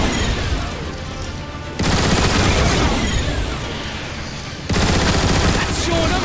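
Rapid turret gun emplacement fire in Transformers: War for Cybertron, dense sustained bursts with loud blocks swelling and dropping across the stretch.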